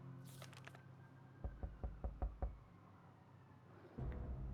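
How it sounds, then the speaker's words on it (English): Knocking on a shelter door in the video game 60 Seconds Reatomized: six evenly spaced, solid thuds in a quick run, clear and close over a low background hum, with no talking. "He keeps knocking at my sheltered door."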